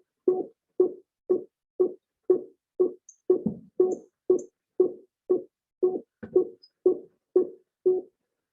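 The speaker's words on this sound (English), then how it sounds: "the classic auditory oddball task consists of different probabilities of sounds" Tones of a classic auditory oddball task used in EEG research: a steady train of about fifteen short, evenly spaced beeps, each roughly half a second apart, with an occasional deviant tone breaking the pattern, clear and alone.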